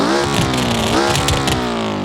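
Turbocharged 2.5-liter water-cooled flat-four with large turbos revving in BeamNG, a steady loud harmonic drone whose pitch sweeps up and down through several rev swells, close and continuous with no talking.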